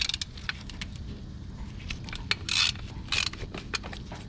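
A ratchet works on the 7mm distributor cap bolts of a 2nd-gen Dodge Ram 5.2L/5.9L engine, giving quick, light clicking and small metallic ticks at close range, with a couple of brief louder rattles.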